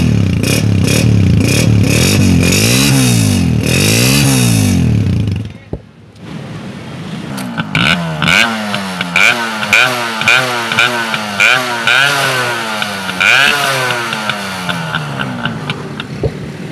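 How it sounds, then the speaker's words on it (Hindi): A 2004 Honda 125 two-stroke motorcycle engine revs hard at close range, then cuts out briefly and restarts into a rapid series of blipping throttle revs with a crackly, buzzing exhaust note. "अच्छा साउंड, टू स्ट्रोक का टिपिकल स्टैंडर्ड साउंड"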